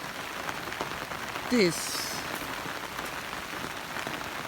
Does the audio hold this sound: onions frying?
no